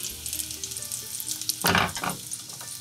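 King trumpet mushroom slices fry in a pan of browning butter with a steady, close sizzle and crackle, swelling into a brief louder burst of spatter midway.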